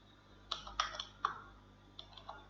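Keys clack on a computer keyboard as a command is entered on a Windows 11 machine, a short uneven run of close, crisp clicks in a quiet room.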